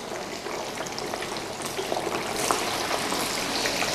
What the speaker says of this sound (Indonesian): Ya, langsung gua goreng aja jadinya ya.